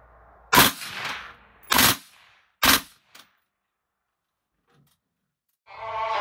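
Three heavy gunshots from a firearm ring out one by one about a second apart, loud and close, each with a short decaying tail, followed by near silence and then a faint rising noise at the end.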